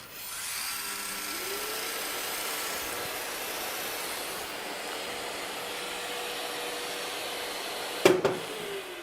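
Festool Planex Easy drywall sander running with its head in rotary action, a steady close whirring motor drone with a rising pitch early on, ending with a brief clunk, and no talk.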